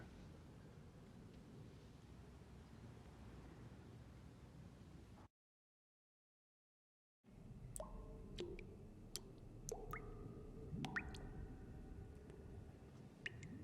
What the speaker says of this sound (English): That's that Breaking Bad water droplets